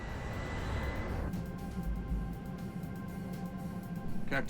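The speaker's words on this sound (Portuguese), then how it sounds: "Com a propulsão de 2 motores da General Electric, a aeronave se lança ao céu" Twin General Electric jet engines of an airliner at takeoff thrust, a steady loud roar with a sustained tonal whine, heard close and continuous without speech.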